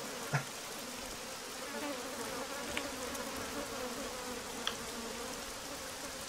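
Bees buzz constantly in Arma 3, a steady close drone of insect wings with a few faint clicks over the top.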